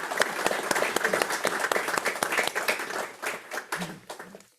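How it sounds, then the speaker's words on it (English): A meeting audience claps in a round of applause, a dense spatter of hands that holds steady, then thins out and fades to a few last claps. "One last round of applause for their leadership over the year."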